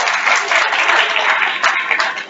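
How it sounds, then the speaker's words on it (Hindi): An audience at a youth parliament event gives loud, hearty applause for a speaker, a dense, continuous wash of many hands clapping that stays close and strong before tapering slightly at the end. "सर के लिए एक बार जोरदार तालियां"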